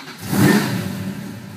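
A 1969 Roadrunner with a 512 stroker V8 catches and revs up into a loud, deep engine surge that settles into a rough, rumbling run.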